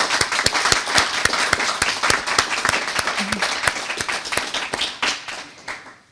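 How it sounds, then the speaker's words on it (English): Applause at a college graduation ceremony, a crowd clapping in a rapid, fairly even patter that thins and fades toward the end. "So I think we should all give everyone a round of applause right now."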